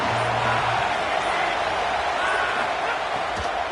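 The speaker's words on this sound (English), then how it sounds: "This crowd bringing the energy and noise early." An American football stadium crowd roars in a steady, loud wash of cheering and noise throughout, with no break.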